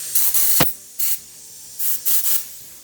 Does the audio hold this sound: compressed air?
yes